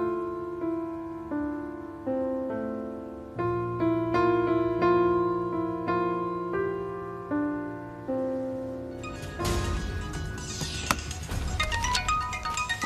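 A phone ringtone plays a repeating melodic tune of clear tones over several seconds, fairly close, before a burst of rustling noise near the end.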